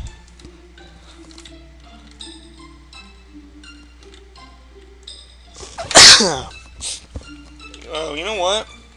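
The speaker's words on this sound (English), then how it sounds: "I can't stop sneezing." Loud sneeze bursts from a player during a Chrono Trigger playthrough, one strong sneeze followed by another, rising over a steady game soundtrack.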